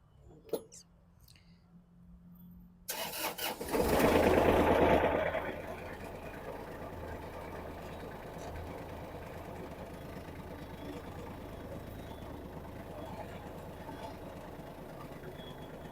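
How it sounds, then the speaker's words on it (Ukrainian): A Kubota GL-29 mini tractor's diesel engine cranks and catches after a few quiet clicks, roars briefly louder as it starts, then settles into a steady close idle that continues to the end. "давайте заведемо, подивимося, як працює цей тракторець"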